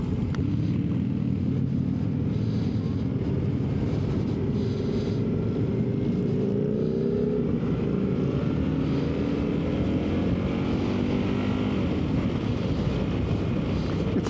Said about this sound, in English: when you try to rev out an engine as big as this